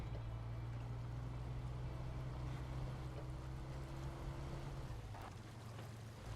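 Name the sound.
truck engine in the video game Snowrunner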